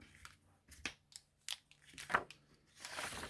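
Card stock being trimmed down for a card front, heard as a quick run of small close snips and crisp paper crunches, quiet and irregular, ending with a longer rustle of paper.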